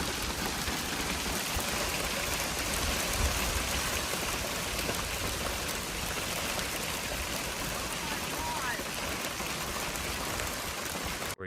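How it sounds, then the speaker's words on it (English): Hail pelts down in a Colorado storm in a dense, steady hiss and patter that continues throughout without a break, loud and close. "you got crazy hailstorms."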